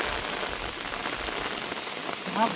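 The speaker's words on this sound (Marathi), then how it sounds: "बघा कसला पाऊस पडतोय बघ." Heavy rain falls across fields and forest in a steady, close wash of patter and drops, with no voices, and a brief higher tone near the end.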